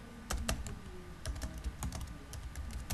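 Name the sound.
typing a label on a computer keyboard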